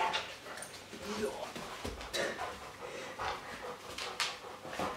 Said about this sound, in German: Ah, Hund.